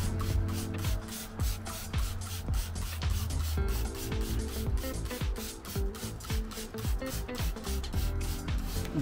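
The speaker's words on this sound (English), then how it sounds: "Just gonna spray it on liberally." Rapid, rhythmic bursts of spraying cleaner from a trigger bottle onto a car alloy wheel, repeated pumps in quick succession, close and fairly loud, with faint scrubbing texture underneath.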